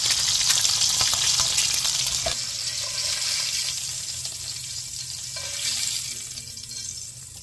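Cut eggs with salt frying in oil in a pan give a steady, loud sizzle and crackle throughout, with occasional stirring clinks and no talk.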